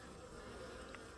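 Honeybees buzz around a hive in autumn during the fall die-off, a faint, continuous drone with a slightly louder pass near the end and no talking.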